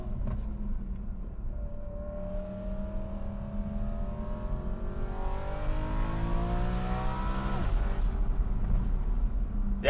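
BMW E92 M3 exhaust on a downshift, a steady engine drone whose pitch sweeps up sharply near the end as revs rise, loud and continuous with no talk.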